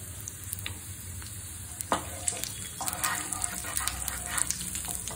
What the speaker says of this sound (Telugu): ఒక హాఫ్ స్పూన్ జీలకర్ర వేసుకుందాం.